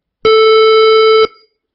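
A steady, buzzy synthesized tone rich in overtones holds for about one second at a constant pitch, then cuts off abruptly with a brief fading tail.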